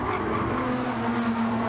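Race cars in an online NASCAR Cup Series sim race, the Goodyear 250, roar steadily past in a group, a continuous loud engine drone with a rising pitch and no voices over it.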